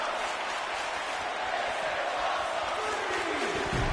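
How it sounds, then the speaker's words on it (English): Virtual arena crowd in the WWE 2K19 wrestling video game, a steady wash of chanting and cheering throughout at moderate level, with no voices in front of it. "I'm hearing a "this is awesome" and a "fight forever" chant from the crowd"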